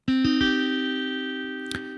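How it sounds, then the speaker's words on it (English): Electric guitar run through a distortion plugin in FL Studio: a few quick picked notes settle into one long, buzzing sustained chord that slowly fades, then a short pick noise near the end. "So let's add maybe some distortion plugin."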